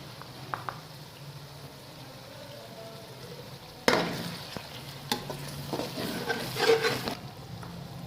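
Tomatoes and chopped green chillies fry and sizzle in a pan for a lentil curry, a soft steady hiss that swells into louder stirring scrapes partway through, with no one talking.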